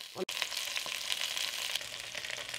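Potatoes fry in a pan with a steady, close sizzle and crackle, broken by a brief dropout near the start and then continuing densely without pause.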